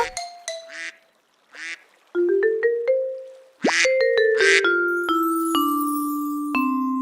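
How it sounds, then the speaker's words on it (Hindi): A cartoon duck quacks in short bursts, loud and close, between sharp ringing electronic tones that sweep and sustain. "देखिए उस बेचारी बतख को।"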